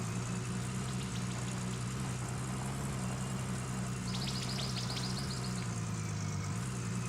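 A vehicle engine idles and rumbles low and steady in the snowy mining game Gold Rush The Game, a constant hum with faint chirping ticks overhead, no speech.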